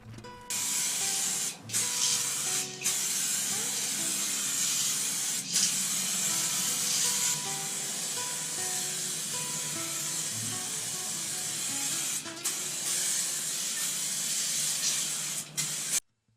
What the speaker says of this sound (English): Now I got to go out and spray another coat on those 2 guitars